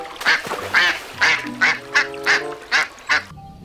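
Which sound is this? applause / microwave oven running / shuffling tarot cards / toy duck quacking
toy duck quacking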